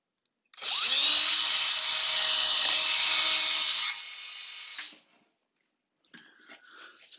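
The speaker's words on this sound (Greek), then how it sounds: "Και τις δύο τελευταίες με το μεγάλο τρυπάνι." A large power drill whines loudly and steadily as it bores through PVC pipe, then slows and stops, followed by faint handling noises.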